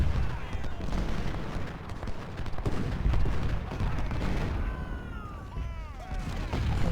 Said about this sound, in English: now we're gonna shoot that gun right there